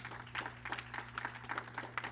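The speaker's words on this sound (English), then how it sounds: "Clap it up for them, guys." A room of people at a church gathering claps for honored members, producing faint, scattered handclaps in an uneven rhythm over a low steady hum.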